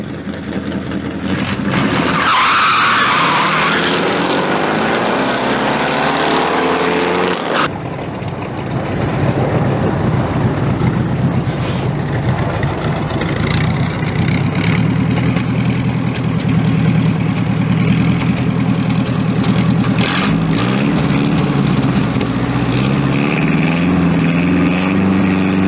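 A V8-powered race car at a vintage drag racing event thunders loudly and continuously, its engine roaring up near the start, then holding a steady heavy rumble throughout.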